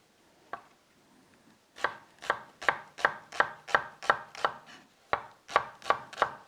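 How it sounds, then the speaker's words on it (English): Knife chopping through a quartered leek on a cutting board: a single cut, then a steady run of about ten rapid, sharp thunks, a short pause and four more, close and crisp with no talking. "so we're quartering the leek basically."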